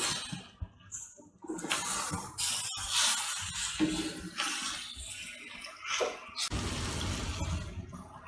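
Water splashes and pours in uneven bursts into a cooking pot of cuttlefish and potato curry, with brief pauses and clinks between pours, close and fairly loud.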